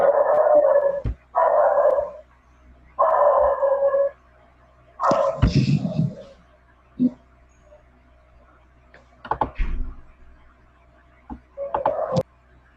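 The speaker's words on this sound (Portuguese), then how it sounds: "Nossa, o cachorro tá animado." An excited dog barks and yips in short bursts, a few sharp barks spaced through the scene, with someone talking over and between them.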